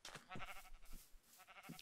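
Sheep in the Minecraft video game bleat several times in quick succession, with short, nasal cries heard close and fairly loud and no talk over them.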